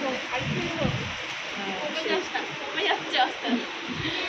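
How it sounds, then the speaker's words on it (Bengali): Steady rain poured down with a dense hiss throughout, without pause, under faint background sounds and occasional nearby clatter. "প্রচণ্ড বৃষ্টি শুরু হয়েছে, মারাত্মক বৃষ্টি"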